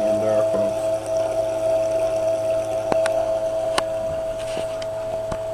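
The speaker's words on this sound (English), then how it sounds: "There's one serious flow happening in there, folks." Coolant rushes steadily through a liquid-cooled EV charger into a header tank, a continuous flowing hum close by with occasional small clicks and knocks.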